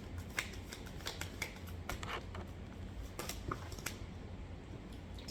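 A deck of playing cards shuffled by hand, giving a run of crisp riffles and flicks, close and fairly quiet, with no one talking.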